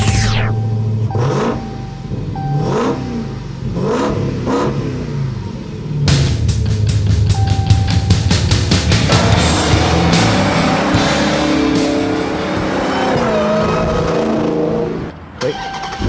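A 2015 Dodge Challenger Hellcat muscle car on a race track, loud engine revving repeatedly through rising gear pulls, then sustained hard acceleration with a roaring, rumbling exhaust close to the microphone.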